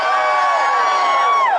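A political rally crowd in Rock Hill, South Carolina cheers and whoops in a sustained, loud roar, many voices blending into a dense wash with a few high shouts on top.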